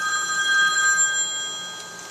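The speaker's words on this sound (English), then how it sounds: "Another phone call." Telephone ringing on a vintage radio call-in show, heard through the original AM radio of a 1950 Ford F-100 truck: a steady electronic ring held for about two seconds and fading slightly at the end, with no talk.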